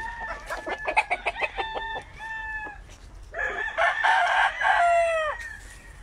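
Roosters crow repeatedly and hens cluck at a fighting-rooster breeding farm in Guamúchil, Sinaloa; several long, strained crows overlap with short clucks, moderately close, with no talk.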